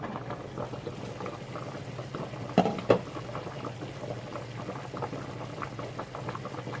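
Spaghetti squash boiling in a pot of water on a stovetop gives a steady low bubbling that runs the whole time, with two sharper knocks or clinks near the middle.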